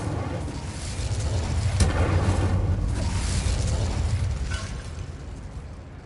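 An Incendio fire spell is cast in Hogwarts Legacy inside a decayed, long-abandoned place, giving a sudden whooshing burst followed by a sustained roaring, crackling flame that slowly fades.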